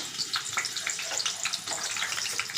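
Tomato cooking in oil in a pan for raw mango chutney, giving a steady, close hissing sizzle that runs without a break.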